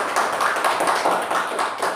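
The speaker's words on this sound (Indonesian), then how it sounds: "Tepuk tangan dulu untuk apel." Classroom applause for a student group, a short burst of many hands clapping together, close and fairly even in rhythm.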